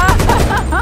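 Gunfire from Call of Duty Black Ops Cold War, a short dense burst of shots in quick succession, loud and close, blended with game noise and low rumble.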